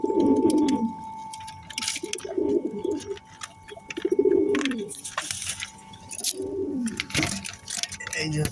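Omani high-flying pigeons coo in repeated low, throaty bursts about once a second, close by, with a faint steady hum and scattered rustles and clicks around them.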